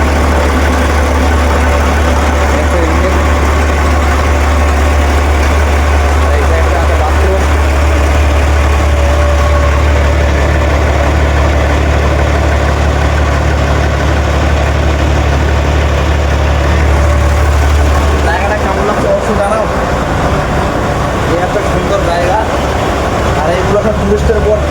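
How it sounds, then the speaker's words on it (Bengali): A tourist motor boat engine runs steadily in the Sundarbans, a loud low droning rumble with constant vibration that shifts slightly in pitch toward the end, with faint voices in the background. "আর এই সেক্টরে ইঞ্জিনের বোট দেখতে হচ্ছে।"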